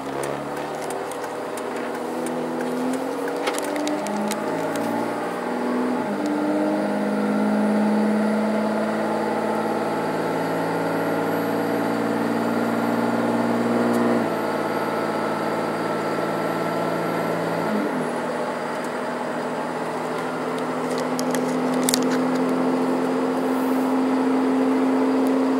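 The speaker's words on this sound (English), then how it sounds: "that was just normal acceleration up to highway speed here" A 2006 Dodge Ram 2500 with a 5.9L Cummins diesel pulls up to highway speed, its steady engine drone climbing through several gear changes under constant road and wind roar.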